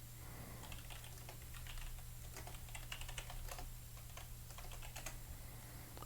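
Rapid clacky computer keyboard typing comes in irregular bursts over a steady low hum, fairly quiet and close, without speech.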